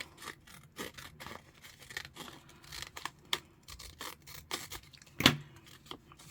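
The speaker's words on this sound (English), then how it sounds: "I'll cut that bit down because I don't want all that" Scissors snipping through wallpaper while it is folded down and trimmed, a quiet series of close crisp cuts and papery rustles with one sharper snip near the end.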